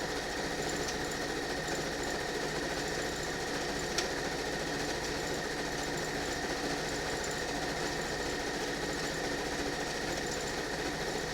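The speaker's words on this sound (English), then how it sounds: "So when I sew them, I want to sew them in pairs." A sewing machine stitches quilt pieces together in pairs with a continuous rapid, even mechanical whir and needle chatter, close and steady throughout with no voices.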